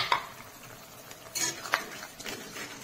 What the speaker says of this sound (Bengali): সমস্ত কিছু দিয়ে এইভাবে নেড়ে চেড়ে মশলা কষিয়ে নেব।